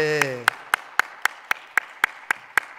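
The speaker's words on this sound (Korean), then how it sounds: "영상으로 함께 예배하시는 분들도 크게 한 번만 더 박수를 쳐주세요" A church congregation at a Christmas worship service claps in steady unison, about ten sharp, evenly spaced claps. A brief sung or held voice tone fades out just as the clapping begins.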